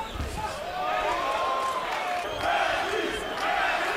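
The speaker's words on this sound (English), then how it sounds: "Crowd is beginning to chant for Tim Bradley." Boxing arena crowd at a Timothy Bradley vs Ruslan Provodnikov bout, a steady roar of many voices rising into rhythmic chanting for Bradley, with a commentator talking over it.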